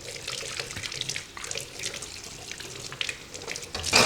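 Tap water running and splashing over a Hamilton Beach juice press tray in a sink, a steady close rush that swells louder at the end.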